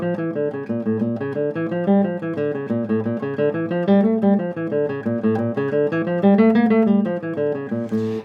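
Scale played rest stroke on a plucked string instrument as a speed and alternation exercise, a rapid even stream of clear, close notes rising and falling in runs for about eight seconds, with no talking.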